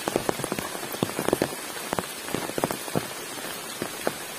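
Heavy rain patters on a multi-level camping shelter at night, dense and close with sharp irregular drops striking the roof over a steady wash of downpour.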